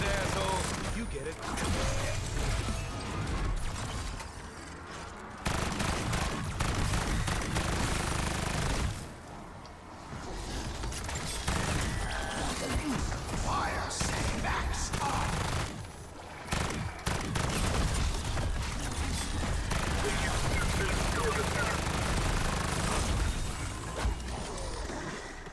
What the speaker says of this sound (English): the LMG shreds